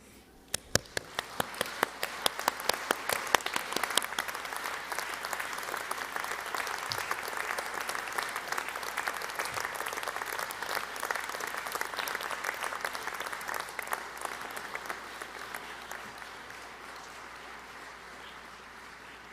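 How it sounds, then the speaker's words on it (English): Graduates of the 2020 class applaud at a university graduation ceremony, a broad wash of many hands clapping that builds quickly, holds steady for a long stretch, then thins out toward the end, heard from a distance in a large hall. "show your appreciation to those who have supported you by way of applause"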